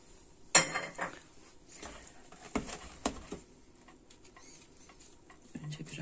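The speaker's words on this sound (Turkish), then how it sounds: "Önce biraz karıştıralım." Spoon stirring chocolate cake batter with hazelnuts in a bowl: a few light clinks and scrapes against the bowl, quiet and sparse, with soft pauses between strokes.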